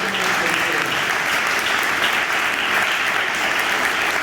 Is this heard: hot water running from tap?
no